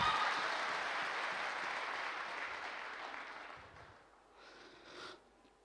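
Audience applause filling a hall, dense steady clapping that carries on for several seconds before thinning and fading out, with a brief burst of scattered claps near the end.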